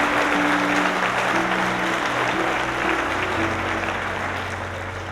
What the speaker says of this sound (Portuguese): Se você crê nisso, aplauda o Senhor.